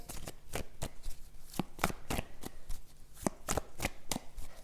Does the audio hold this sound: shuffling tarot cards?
yes